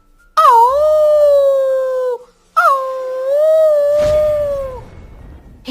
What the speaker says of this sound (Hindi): तभी उसको कुत्ते की रोने की आवाज आती है।